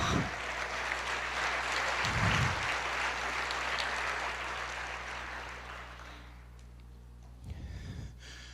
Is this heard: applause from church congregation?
yes